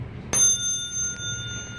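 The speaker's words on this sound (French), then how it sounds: "petite sonnette" A single bright ring from a small bicycle bell fitted to a pousse-pousse cart, struck once near the start and left to hum and fade in a long sustained tone over quiet room noise.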